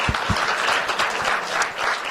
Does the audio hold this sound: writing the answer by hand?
no